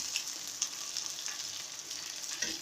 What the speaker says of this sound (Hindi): भिंडी को हम इतना फ्राई करेंगे कि भिंडी में जो एक लेस होता है वो ख़त्म हो जाए बिल्कुल।